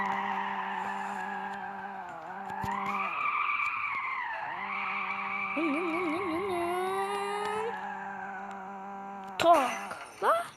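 Car crash simulator game: a car engine hums steadily and its pitch rises and falls with squealing tires, then a sudden loud impact near the end is followed by a second crunching hit.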